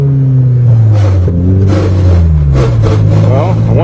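A Toyota GTS engine revving while in gear, its loud, close drone rising and falling through several throttle swells, with someone speaking over it.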